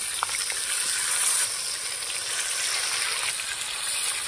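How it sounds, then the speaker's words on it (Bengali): Stuffed pointed gourds frying in hot oil, a steady, close crackling sizzle that runs continuously without pause and without any talking. "তেল গরম হয়ে গেছে, এবার এক এক করে সব পটল ঢেল দেবো মশলায় ভরপুর"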